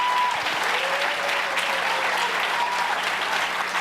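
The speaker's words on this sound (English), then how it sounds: "Let's give Bill Maggio a great big round of applause" An audience at a startup competition finals event applauds warmly, with a continuous, even wash of clapping from many hands throughout.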